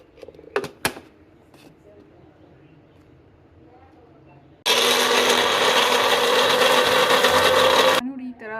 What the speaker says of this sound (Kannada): ಆ್ಯಡ್ ಮಾಡಿ ಇದನ್ನು ಮಿಕ್ಸಿ ಮಾಡಬೇಕು